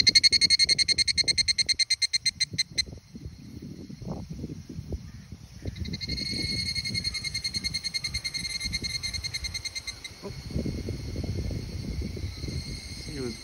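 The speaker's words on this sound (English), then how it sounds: "These cicadas, this particular species, tends to sing in the evening" Cicadas sing in the evening in pulsing, high buzzing trills that stop, then return as a continuous chorus, with someone speaking close by throughout.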